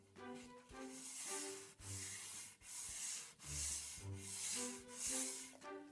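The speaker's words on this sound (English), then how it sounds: "wrap the sandpaper around that to keep a more even surface while you're sanding" Sandpaper rubbed by hand over the finish of a wooden iPad box, making repeated broad scratchy strokes in a steady back-and-forth rhythm, close and fairly loud with brief pauses between passes.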